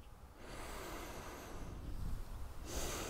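A slow, audible inhalation through the nose during a forward-and-back balance exercise, close and soft, with a second breath starting near the end.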